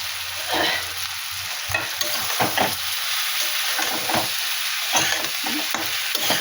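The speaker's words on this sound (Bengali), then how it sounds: "এই যে ভাজাভুজি হচ্ছে এর মধ্যেও আমি এই ফুলকপি দিয়ে দিলাম" Cauliflower florets frying in a hot pan with oil and spices, a steady bright sizzle with repeated scraping stirs, close and alone with no talking.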